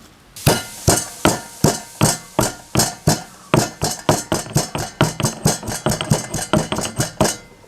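Unpeeled garlic cloves, washed but skins left on, are crushed with a pestle, about twenty sharp, close thuds falling in a steady rhythm that pauses briefly and then resumes a little faster.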